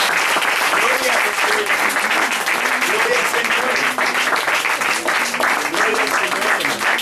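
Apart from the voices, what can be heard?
congregation applauding in church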